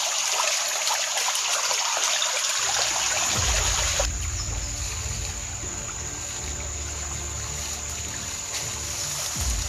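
River water in a forest trickles and flows steadily, a soft continuous wash that turns lower and rumblier partway through, with no talk.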